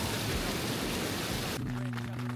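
Heavy rain, with hail reported earlier, pours steadily onto a two-person tent during a hiking trip, a dense continuous hiss that drops noticeably in intensity partway through, with low tonal sounds underneath.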